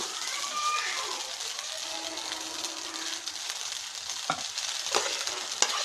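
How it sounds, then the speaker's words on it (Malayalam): Cooked vermicelli stirred into masala in a hot pan, giving a steady close sizzle with scraping stir clicks and a few sharper knocks of the utensil near the end. "അപ്പോൾ ഇനി നമുക്കിതിനകത്തോട്ട് പച്ചച്ചവയൊക്കെ മാറിയതിനകത്തോട്ട് നമുക്ക് നമ്മുടെ ആ ഒരു വേവിച്ച് വെച്ച സേമിയ ഒന്ന് ഇട്ട് കൊടുക്കുക"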